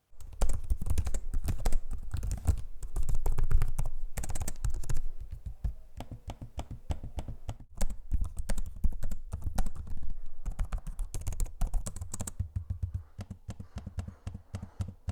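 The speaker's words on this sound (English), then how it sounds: "Here's a sample of the keyboard so you can hear for yourself what they sound like in use." Typing on Lenovo Legion 7i and Legion Pro 5 gaming laptop keyboards: dense, steady clatter of close key presses with brief pauses, loud and continuous throughout.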